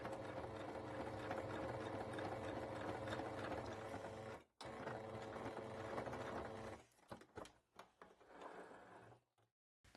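Sewing machine stitching piping onto fabric, a steady close whirring run for several seconds, a brief stop, then shorter stop-start bursts before it falls quiet.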